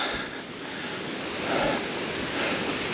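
A mountain waterfall across the valley near Artigues in the Pyrenees pours with a steady, broad rushing hiss, continuous and fairly loud, with wind mixed in and no voices.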